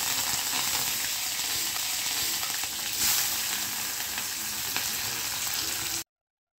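Onion, green chillies and curry leaves frying in oil with crackled mustard seeds and cumin, a dense, continuous close sizzle and hiss with faint stirring, no talking, ending abruptly.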